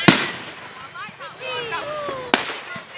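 Bonfire night fireworks finale at Booths Hall: sharp bangs open and close the stretch, with whistling, rising crackles and fizzes between them. Voices chatter faintly underneath.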